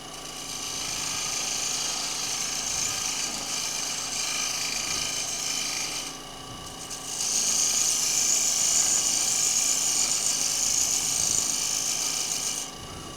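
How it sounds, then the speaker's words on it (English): Beading tool cutting turned wood on a lathe, a continuous raspy scraping hiss with a steady hum beneath, dipping briefly midway before resuming at full strength, close and loud. "Then I'm going to go back to my beading tool."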